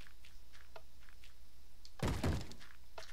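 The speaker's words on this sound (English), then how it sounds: "I hear some door banging. So I assume the zombies are here." In a video game, zombies bang on a door: a couple of heavy, booming thuds land midway through, over a low, steady ambient background with faint scattered clicks.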